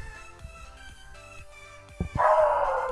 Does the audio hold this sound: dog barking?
yes